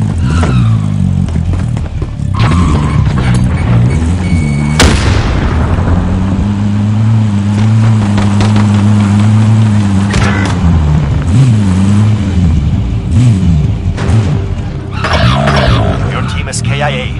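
Car engine in a military shooter video game, running steadily and rising and falling in pitch as the vehicle is driven, with a sharp impact near the start and game voices talking over it throughout.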